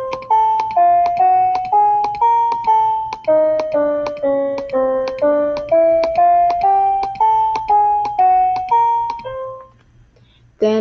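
A synthesized piano in a Scratch program plays a string of about twenty clean, evenly spaced notes, each struck and quickly fading, stepping up and down in a simple melody, then stopping before a brief final click.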